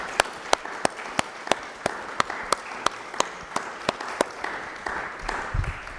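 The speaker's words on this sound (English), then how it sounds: "we need a round of applause for our absolutely incredible panel up here" Sparse audience clapping for a school research symposium alumni panel: a slow, steady series of sharp individual claps, roughly two per second, fairly near over a quiet room, fading at the end.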